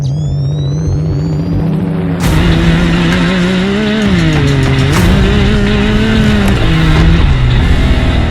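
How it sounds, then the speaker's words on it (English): A Can-Am Maverick R off-road side-by-side, a 300-horsepower machine with long-travel suspension built for dunes, idles and then revs loudly up close, its engine note rising and falling steadily with no talk over it. "So this is our new Can-Am Maverick R."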